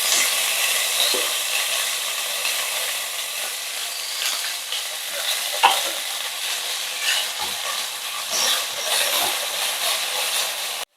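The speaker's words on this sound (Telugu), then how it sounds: "పాలకూర, మెంతి కూర వేసుకున్న తర్వాత ఒక 2 minutes మనం ఇలా ఫ్రై చేసుకుంటే సరిపోతుంది" Fenugreek and spinach leaves fry in oil in a kadai, giving a steady close sizzle and hiss that runs throughout, with a few soft stirring clinks and scrapes and no talking.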